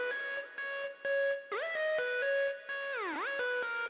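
An unprocessed Lionheart synth lead from a preset pack for Nexus plays a bright, buzzy melodic phrase of sustained notes with pitch glides, loud and alone.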